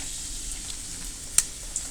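Dried red chillies, broken by hand, sizzle in hot oil for a brinjal lentil curry, a steady bright crackling hiss with one sharper pop, close and without talk.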